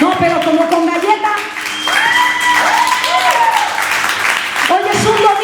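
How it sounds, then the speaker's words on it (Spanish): Applause from a church congregation on a Sunday morning, a steady wash of clapping mixed with voices and tonal sound throughout. "Dale un aplauso al Señor por eso."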